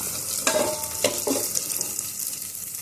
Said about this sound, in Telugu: చూడండి మంచిగా ఫ్రై అయ్యాయి